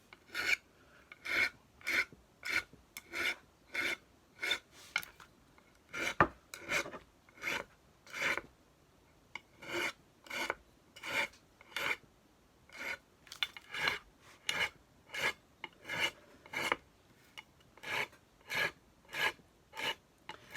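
A metal file dresses the fret edges on a surf green Stratocaster guitar neck in steady rasping strokes, about two per second, close and fairly quiet with short pauses between runs.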